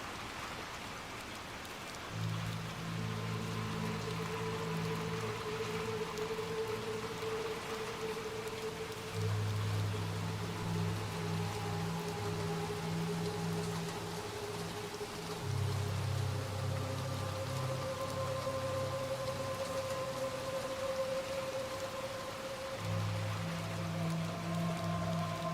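Steady rain hisses across a dark scene in the video game Little Nightmares 2, with low droning tones and a faint ominous melody layered over the downpour throughout.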